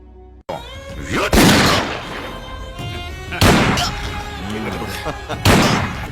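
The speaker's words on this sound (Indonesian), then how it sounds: "Mereka bertiga menembak Saravanan berkali-kali hingga tewas" Gunfire in an Indian action film, with three loud, sharp bursts spaced about two seconds apart cutting over a busy score and a voice.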